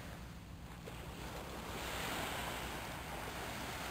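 Sea surf washing onto a beach at Hồ Cốc, with a rocky reef offshore breaking the waves, heard as a steady, moderately loud wash with wind noise on the microphone and no talking.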